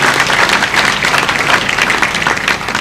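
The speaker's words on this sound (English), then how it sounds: "with a very, very strong hand clap to congratulate the class of" Loud, vigorous clapping from a large crowd at a National Defence College graduation ceremony, a dense, close burst of many hands beating in a busy, uneven rhythm that stays strong throughout.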